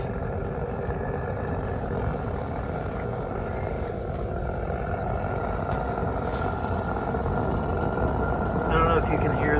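A Howl R4 propane fire pit burner roars with a steady, broad rushing hiss like a distant jet, holding constant and swelling slightly near the end.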